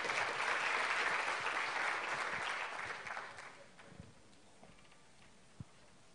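Audience applause at a public administration conference, a full, steady clapping that tapers off after about three seconds into scattered claps and room quiet.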